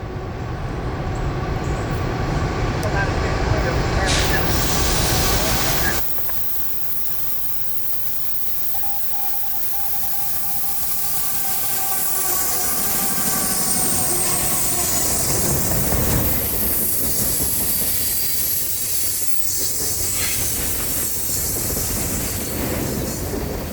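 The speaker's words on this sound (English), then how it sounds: "the first NS train of the day would come into view" Norfolk Southern manifest freight train 196, running from Chattanooga to Fort Wayne, Indiana, rolls past loud and steady with rail clatter and a sudden drop in noise, then a lighter ongoing rumble with faint wheel squeal.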